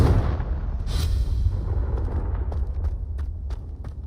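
Explosive Confringo spell from Hogwarts Legacy, a booming burst at the start that rolls into a low rumble, followed by scattered lighter impacts during combat.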